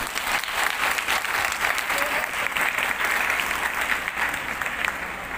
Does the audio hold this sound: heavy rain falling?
no